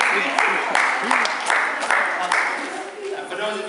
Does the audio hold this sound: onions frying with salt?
no